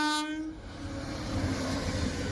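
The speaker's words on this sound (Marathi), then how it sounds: "समोरनं एक ट्रेन आलेली आहे" A train horn blares briefly at the start, then the Nagercoil–Mumbai superfast express roars past nearby with a steady rumbling rush of wheels on rails.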